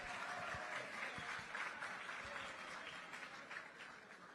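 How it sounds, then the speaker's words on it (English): An audience at a creative career expo breaks into sustained, even clapping, a full steady patter from many hands that tapers off slightly toward the end. "Everybody clap him."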